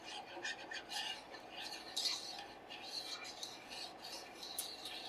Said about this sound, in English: we're just gonna stir that all together